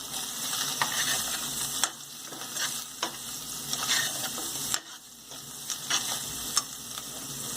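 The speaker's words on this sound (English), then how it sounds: "and this chole powder. Stir it once." Chole spice powder stirred into hot oil in a frying pan while making chana masala, with a steady sizzle and repeated sharp scrapes of a spoon against the pan, close and fairly quiet, no talking.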